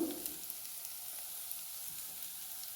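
Chopped onions and chili powder frying in a pan during a Malayalam gooseberry (nellikka) recipe, giving a steady, close sizzle throughout with faint stirring scrapes and no talk.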